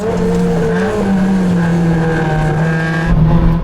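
A loud, steady racing car engine in a racing video game holds a high droning pitch, sliding down briefly before settling back into a sustained roar.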